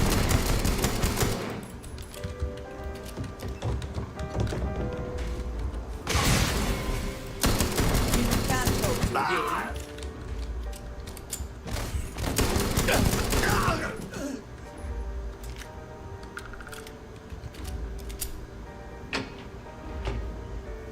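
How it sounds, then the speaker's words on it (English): Gunfire in the Starfield video game: dense, loud bursts of rapid shots rattling in waves over a steady background roar, with short pauses between volleys. "That's some fancy shooting right there"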